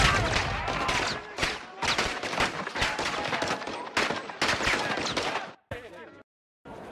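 Heavy gunfire rages in the Call of Duty Modern Warfare 2 (2022) intro on PS5, dense bursts and rattling volleys pounding almost without pause, then cutting out abruptly near the end; shouted voices are buried in the din.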